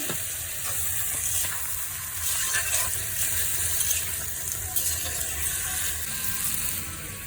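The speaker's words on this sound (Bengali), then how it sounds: "ভালো করে কষাই নিচ্ছি" Tilapia fried in a pan with spinach and potatoes gives a steady close sizzle, with stirring scrapes and bumps over a low continuous hum and no talk.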